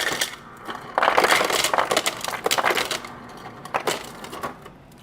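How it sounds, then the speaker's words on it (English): Ice cubes tumble into a glass in a few bursts of hard clinking and rattling, close and fairly quiet, with separate clatters spaced over a few seconds. "Hit some ice."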